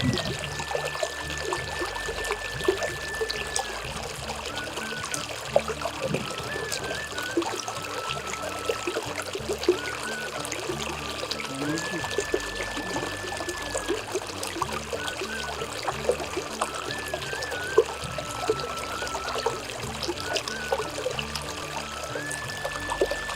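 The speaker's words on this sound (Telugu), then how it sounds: "Now look at this water." Water trickles and pours steadily through a green natural setting, a continuous close babbling flow with small splashes and no voices over it.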